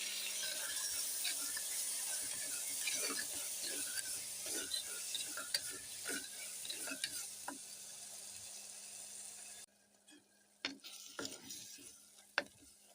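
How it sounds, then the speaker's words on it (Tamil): Tomatoes sautéing in oil after golden onions for a Tamil mango vatha kuzhambu, with a soft sizzle and a spoon scraping and stirring that thins out near the end into a few sharp knocks. "தக்காளியும் எண்ணெயிலே வதக்கிக்கலாம்."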